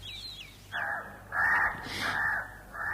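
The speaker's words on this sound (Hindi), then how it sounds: "पास के लंबे खजूर के पेड़ से उड़कर एक कौआ" A crow calls from a tall date palm nearby, giving a few harsh, rasping caws in separate bursts, fairly loud and close against a quiet outdoor background after a faint bird chirp at the start.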